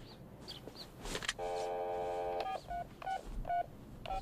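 A burst of touch-tone telephone dialing: one long steady tone followed by several short separate beeps, fairly loud over faint background noise.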